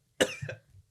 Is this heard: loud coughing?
yes